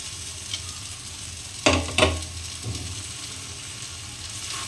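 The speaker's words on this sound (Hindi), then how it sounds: "अब इसमें हम अपना भुजा हुआ सब्जी को डाल देते हैं।" Fried vegetables stirred into a sizzling, well-roasted masala in a pan, a steady close frying hiss broken by a couple of louder clattering stirs.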